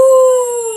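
A single short voiced wolf-like howl imitated by a performer in a children's farm-animal song, a pure, steady tone held for under a second.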